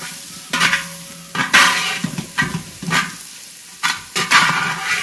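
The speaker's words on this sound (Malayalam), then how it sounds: "നന്നായിട്ടൊന്ന് ഇളക്കി കൊടുക്കാം" Biryani is stirred in a large copper pot, with about half a dozen loud scraping strokes over a soft sizzle, each sweep rising and fading with short pauses between.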